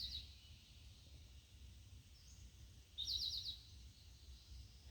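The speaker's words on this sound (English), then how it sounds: "Do you hear the birds?" Birds sing on a rural homestead during a morning heatwave, giving a short call near the start and a brighter trilled burst a few seconds later, faint and distant against a low steady rumble.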